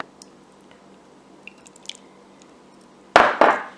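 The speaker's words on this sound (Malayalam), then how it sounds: "ഓയിൽ ഒഴിച്ച് കൊടുക്കുക." Vegetable oil poured into a bowl of no-oven banana bread cake batter: quiet kitchen background, then two short, close, wet glugging splashes near the end, with no talking.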